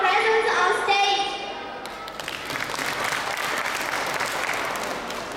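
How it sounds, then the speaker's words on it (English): A crowd applauds steadily with dense clapping while a voice speaks over the start, the applause continuing strongly to the end. "a round of applause to welcome her presence on stage"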